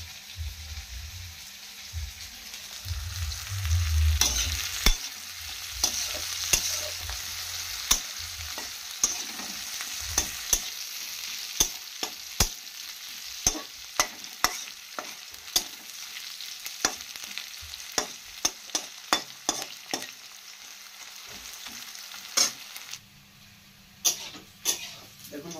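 Onions fry until browned in a pan, a low sizzle broken by frequent sharp scraping stirs, with an occasional cough nearby and a quieter stretch toward the end.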